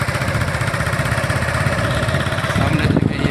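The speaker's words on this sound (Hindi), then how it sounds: "अभी बैठ गए मोटरसाइकिल पर।" Motorcycle engine running while riding through village fields near Ahmadpur East, a loud, steady droning putter with constant rumble and wind noise, no pauses.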